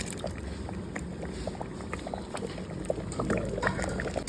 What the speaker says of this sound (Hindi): अब मेरे पानी को, जो बिरयानी के पानी को उबाल आने लग गया